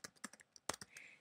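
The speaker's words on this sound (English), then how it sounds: "If you type in the middle of a white box, like I just did, you won't see what you typed." Typing on a computer keyboard for a PowerPoint slide: a brief burst of a few quiet, close key clicks, the last stroke a little sharper, with no voice.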